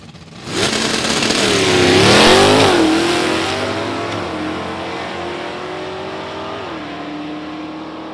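A 1989 Ford Mustang with a 302 engine launches hard off the line at an NHRA Division 3 drag race. Its engine climbs in a loud, rising roar and the pitch sweeps upward through the gears. It stays close and sustained, then fades slightly as the car pulls away.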